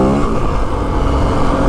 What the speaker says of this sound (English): See how much it revs up quicker?